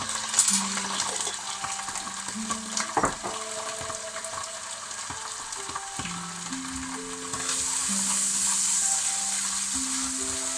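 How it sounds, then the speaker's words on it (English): A vegetable stir fry with ginger sizzles in a pan, a steady close frying hiss with scattered stirring clicks and knocks that swells louder toward the end. "So I'm doing a stir fry, I'm doing a vegetable stir fry."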